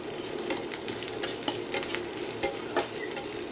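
Sliced onion sizzling gently in hot oil in a pan, with steady crackle and intermittent scrapes and clinks of a spatula stirring against the metal, close and fairly quiet with no voices.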